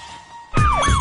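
An ambulance siren wails in sudden and loud, its pitch sweeping up and down as emergency workers rush a wounded man to a hospital, following a quieter stretch of steady tone.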